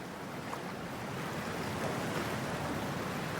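Steady wash of water and wind noise in the video game Cyberpunk 2077 as characters wade into toxic water, a continuous even rush with no talk over it.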